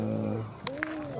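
A racing pigeon arrives during a club training session in Ciamis and gives a few low, soft coos up close, with brief sharp flutters or clicks over a steady background hum.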